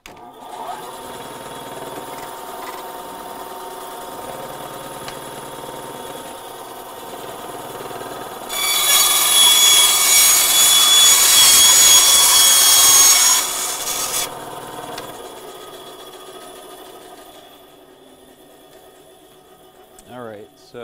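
A bandsaw cuts material for a DIY Star Wars lightsaber in a workshop, a loud hissing, rasping cut lasting several seconds over the machine's steady background hum, with quieter running before and after.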